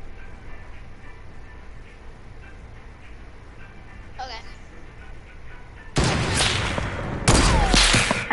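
Gunfire in the Fortnite video game rings out in loud bursts near the end, following quieter game ambience with a brief sharp sound midway.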